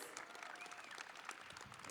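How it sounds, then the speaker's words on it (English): Convention audience at a 2019 comic con panel with WWE wrestlers applauding, a dense, steady patter of many hands clapping at moderate distance, brief and unbroken. "Big round of applause for Alexa Bliss."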